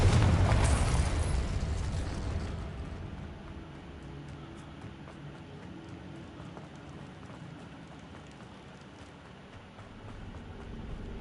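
A fiery Confringo spell blast in Hogwarts Legacy opens with a loud, broad explosive burst that quickly decays into a long crackling, rain-like rumble of debris and flame, fading but persisting to the end.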